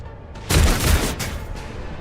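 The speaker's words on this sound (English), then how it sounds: "They're all just shooting with their goddamn auto gun. Never mind, they're shotguns." Enemy shotgun fire in the Warhammer 40k game Rogue Trader, a loud burst of overlapping gunshots with a heavy boom that rings out and fades over about two seconds.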